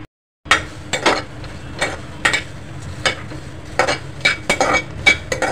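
Cut green chillies dry-roast in a kadhai without oil, with repeated scraping and clinking strokes of a spoon stirring against the metal over a faint crackle, starting after a brief silence.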